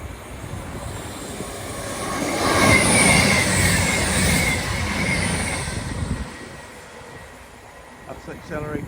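Passenger train accelerating out of Ambergate Junction near Derbyshire sawmills, passing at speed: a broad roar of wheels and rail noise swells to a peak midway and then fades, with faint speech-like murmur beneath.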